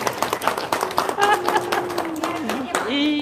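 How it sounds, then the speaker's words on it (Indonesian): An audience at a religious talk claps at the preacher's prompt, a burst of scattered hand claps under a voice and tonal background sounds, moderately loud and close. "Tepuk tangan."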